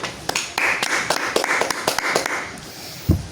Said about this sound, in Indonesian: Bapak beri apresiasi, beri tepuk tangan dulu.